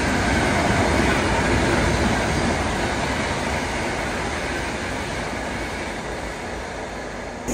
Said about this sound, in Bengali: এই যে ঝড়ের গতি নিয়ে ট্রেনটা বেরিয়ে গেল, এটা হচ্ছে ভোপাল শতাব্দী।